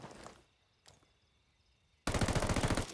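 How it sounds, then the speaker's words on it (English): M4A1 assault rifle in Ghost Recon Wildlands fires a loud, rapid automatic burst near the end, after a faint single shot and a quiet stretch. "Oh yeah, that's got some good rate of fire, but it's got quite a bit of recoil"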